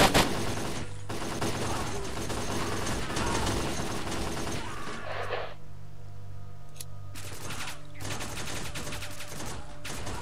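Machine gun fire in the S.T.A.L.K.E.R. mod Lost Alpha chatters in loud sustained bursts, breaking off midway, then resuming with sporadic shots over a low mechanical drone.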